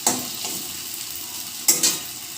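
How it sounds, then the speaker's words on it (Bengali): Cumin seeds fry in hot oil with a steady close sizzle, broken by a few louder scraping clatters of stirring in the pan. "এর মধ্যে জিরে ভাজা ভাজা হয়ে এসছে"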